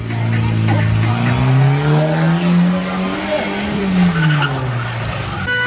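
Car tyres squeal loudly in a long, wavering skid, the pitch sliding up and down over several seconds alongside engine roar, with a voice briefly audible.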